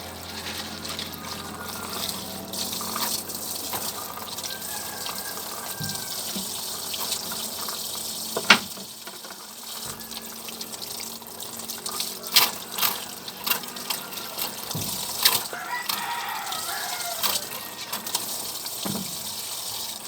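Pechay leaves washed under a running kitchen tap, a continuous rush of water into a sink with splashes, drips and handling clatter as the leaves are rinsed, heard close throughout.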